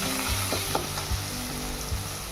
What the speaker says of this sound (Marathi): आणि आता लगेच आपण टोमॅटो टाकू. तो पण छान परतून घेऊ.